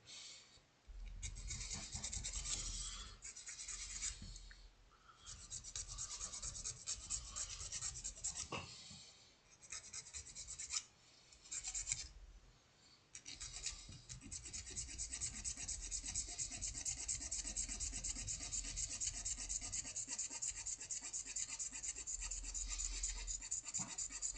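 Miniature bases being sanded down for Nightstalker models, a steady close rasping scrape that runs almost continuously with a few brief pauses, and no voices.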